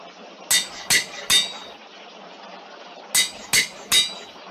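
Anvil in a Minecraft-style survival video game: six sharp metallic clanks, three evenly spaced, a pause, then three more, fairly loud over a faint steady background.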